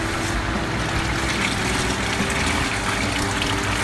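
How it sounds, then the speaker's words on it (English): Water drains steadily out of old grow medium into a bucket, a continuous close rushing trickle with a low rumble beneath and no voices. "So I drain it here as much as possible."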